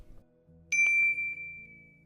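A single bright notification bell ding rings out sharply and sustains a clear tone that slowly fades, set over a low, quiet hum with no talking.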